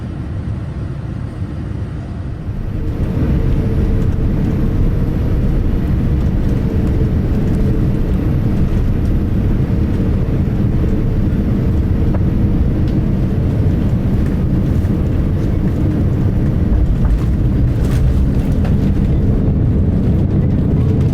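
Cabin noise aboard a Qatar Airways Boeing 787-9 Dreamliner on approach to Doha: a loud, steady low engine and airflow roar that swells after a few seconds and holds evenly.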